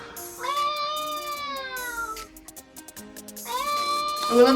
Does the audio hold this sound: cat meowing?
yes